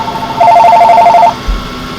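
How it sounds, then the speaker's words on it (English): A telephone rings once with a loud, close electronic warble of rapidly pulsing tones lasting about a second, followed by a soft thump in quiet surroundings. "Sorry, the phone rang."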